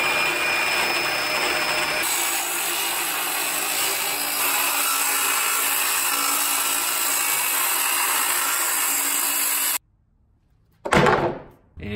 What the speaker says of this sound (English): we've got our cordless rigid circular saw.